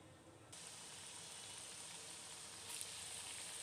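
Rice flour pitha fry in hot oil with a soft, steady hiss that rises slightly partway through, faint and continuous, with no voices.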